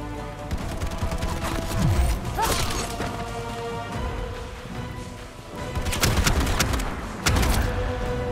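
Gunfire and impacts in the first-person shooter Bright Memory Infinite on Nintendo Switch: repeated sharp shots and crashes over dense game noise, with heavier bursts near the start and toward the end.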